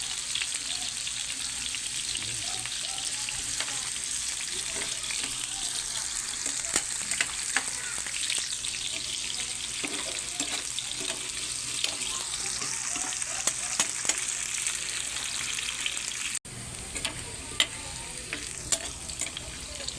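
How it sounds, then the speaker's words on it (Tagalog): Pork frying in a pan for caldereta while being stirred: a dense, continuous sizzle with scraping and clattering stirring strokes, briefly cut off near the end. "Medyo halu-haluin po natin para maiwasan po natin na masunog"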